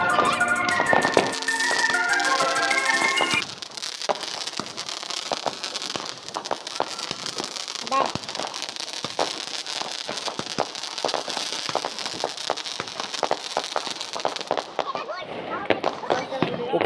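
Diwali firecrackers and fireworks going off outdoors during a celebration with friends, giving a steady crackling hiss of small pops and bangs throughout, with a musical tone early on and talking voices mixed in.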